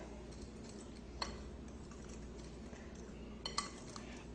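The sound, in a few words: whisking dry baking ingredients in a bowl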